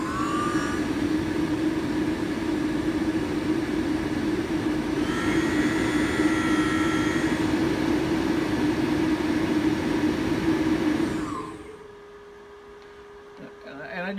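An electric motor driven by a Hübner AC 35 inverter on 24 volts, strapped to a table, whirs at high RPM with a steady whining hum, then cuts out abruptly, leaving a faint lingering tone.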